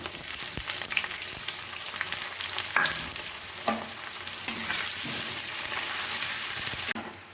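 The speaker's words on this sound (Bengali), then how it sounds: "আলু আর পেঁয়াজটা লাল লাল করে ভাজা হয়ে গেছে" Potatoes and chopped onion fry in a pan with a steady, close sizzle, broken by a few sharp scrapes and clacks of a stirring spoon against the metal.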